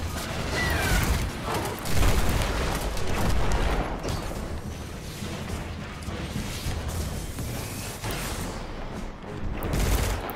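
Dense gunfire and explosions rumble through a strike mission in the Destiny 2 beta video game, a loud, continuous barrage of booms and rattling shots with no talking.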